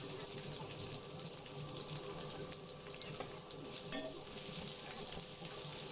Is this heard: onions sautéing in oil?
yes